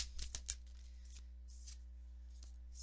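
Tarot-style cards being shuffled and drawn, with several quick riffling bursts early on, then a few softer separate flicks and slides of cards, close and quiet, with no talking.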